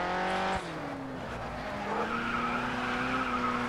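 Ford GT drifting in the GRID Autosport racing game, its engine droning with shifting pitch while the tires squeal in long sliding howls, the revs dropping sharply early on then climbing again.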